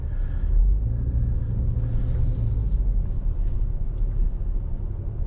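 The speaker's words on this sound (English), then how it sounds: "This is just going to be a test drive of the car real quick." A 2021 Subaru Ascent Touring drives on a road, heard from inside the cabin as a steady low rumble of engine and tire noise, moderately loud and continuous with no talk.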